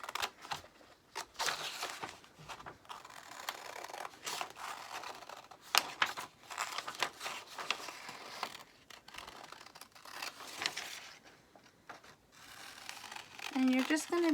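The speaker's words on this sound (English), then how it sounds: "it's time to go ahead and cut him out with your scissors." Scissors snip and rustle through paper while cutting out a paper penguin, a steady run of close crinkling cuts with brief pauses, with no talk over them.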